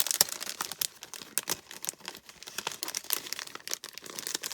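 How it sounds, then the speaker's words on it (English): Plastic packaging around a pack of scrapbook paper crinkles in quick, irregular bursts close up, a busy, papery rustle with sharp crackles running throughout. "Sorry for the crinkling."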